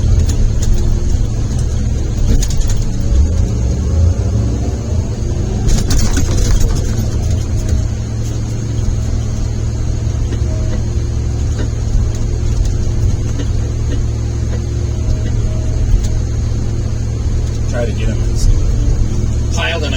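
A Tigercat 234B log loader's diesel engine runs continuously at a loud, steady drone near the listener, with a brief surge of hydraulic whine partway through.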